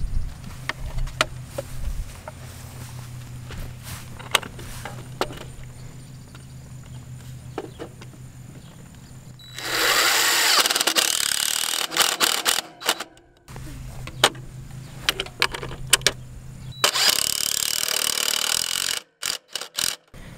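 A power tool fastens a solar driveway gate opener control box onto a hinge post outdoors, with clicks and ratcheting taps, then two loud bursts of drilling or driving separated by a quieter stretch.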